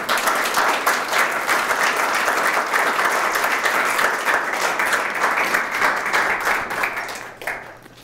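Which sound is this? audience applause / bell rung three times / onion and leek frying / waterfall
audience applause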